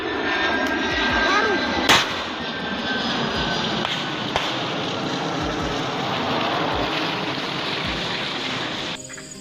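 A TNI military transport aircraft over Yahukimo drones with a steady, loud broadband engine roar throughout, broken by a couple of sharp cracks near the start and middle.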